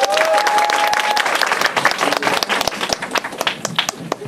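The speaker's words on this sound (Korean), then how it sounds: "큰 박수로 맞이해주세요" A concert audience gives loud, sustained applause with dense overlapping claps to welcome a saxophonist onto the stage, and the clapping thins out toward the end.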